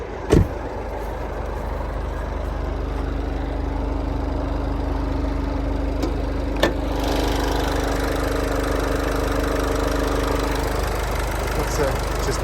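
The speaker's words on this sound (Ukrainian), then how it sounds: "Моторик працює." A Renault Koleos engine idles steadily, a constant low mechanical hum that holds evenly for about twelve seconds, with a couple of brief clicks.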